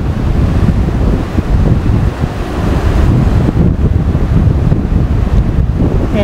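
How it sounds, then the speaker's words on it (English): A rapid river in Buena Vista, Colorado rushes with a loud, continuous roar, heavily buffeted by wind gusting across the microphone. "This is a very rapid river in this area."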